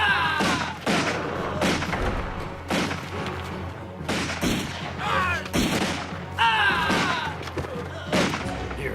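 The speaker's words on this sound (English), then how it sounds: "I did not order you to fire, Winters!" Volleys of musket gunfire in a frontier war film, a rapid series of loud cracking shots in bursts of several at once, repeating across the scene with faint shouting between them.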